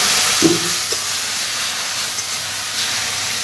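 Boiled shushni greens frying with garlic in a pan: a steady loud sizzle and hiss, broken by a couple of soft clinks of stirring.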